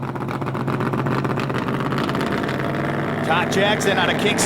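A stick-shift Ford Mustang 5.0 drag car launching on nitrous at a Ford drag racing series event, loud roaring engine howl with a gear change, under excited commentator speech.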